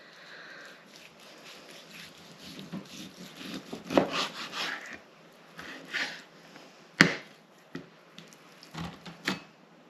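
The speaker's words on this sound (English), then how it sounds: "I've just finished off cutting this up now" A knife slicing through cooked gammon on a board, with soft rasping strokes and several sharper taps as the blade meets the surface, quiet and close.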